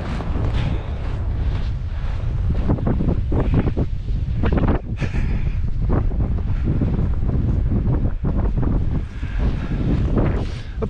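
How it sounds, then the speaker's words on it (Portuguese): Strong, cold headwind buffets the microphone along the shore of a bay between Comporta and Tróia, a loud continuous roar with gusting surges and possible surf underneath, no talking. "O vento continua contra, para variar."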